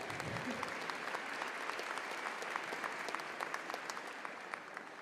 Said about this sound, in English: You can applaud, that's okay.